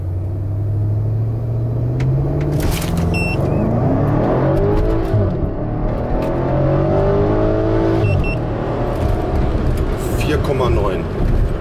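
A BMW X6 M with Hamann tuning launches hard for a 0-100 km/h timing run, its engine rumbling and then rising through rapid revving gear pulls, loud and close from inside the cabin, with a voice speaking briefly.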